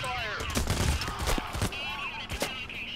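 Rapid gunfire from the video game Payday, several sharp bursts cracking through a busy mix, fairly loud, with a voice speaking over it.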